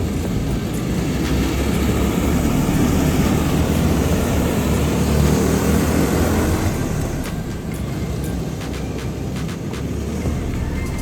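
Full-contact mini wedge race cars roaring around a slick track, a dense, loud, continuous engine drone from several small cars with no break.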